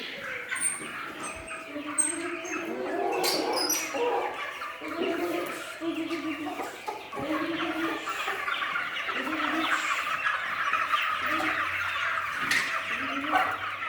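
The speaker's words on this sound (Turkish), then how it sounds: "Civcivlerimizi mi seveceksin?" Many high-pitched cheeps from a crowd of 56-day-old chicks, continuous and overlapping, with occasional lower clucks and faint rustling nearby.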